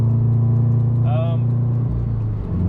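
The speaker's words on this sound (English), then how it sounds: "they do give it that rumble, like I guess what people call it, the Subaru noise or Subaru sound" A Subaru-engined Scion FR-S with aftermarket headers gives a deep, steady exhaust rumble that drones low throughout, with a brief voice-like sound rising over it midway.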